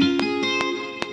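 Electric guitar run through the Guitar Rig 6 effects plugin, sustaining a chord with a bright, processed tone while sharp percussive clicks strike at a steady rhythm.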